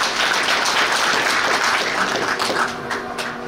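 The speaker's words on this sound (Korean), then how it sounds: "고생해주신 우리 소병철 위원장님께 다시 한번 큰 박수 부탁드립니다" Crowd applause at a South Korean presidential campaign rally in Suncheon, a dense, steady wash of clapping from a large audience, loud and sustained before tapering slightly at the end.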